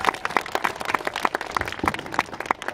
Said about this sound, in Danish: Freja, så skal vi høre, at de kan klappe